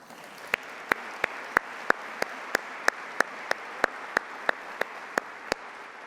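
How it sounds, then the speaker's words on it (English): Warm round of applause from a business meeting audience, a dense steady wash of clapping with regular sharper claps standing out, held at an even level throughout with no talk. "let's give him a round of applause just in case he's watching on the web"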